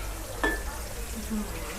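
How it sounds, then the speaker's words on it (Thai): Sesame-coated pork belly sizzles and fries steadily in a pot, a soft continuous crackle with a brief clink near the start. "เอาหม้อมาทอด"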